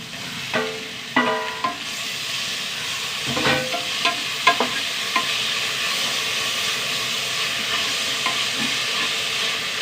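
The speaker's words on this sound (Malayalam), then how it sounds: "ഉള്ളി വഴണ്ട് വരട്ടെ ഉള്ളി വഴണ്ട് വന്നു കേട്ടോ രണ്ട് തക്കാളി" Onions and tomatoes sauté in a pan, a steady close sizzle broken by several sharp spatula clinks and scrapes against the metal, with no voices.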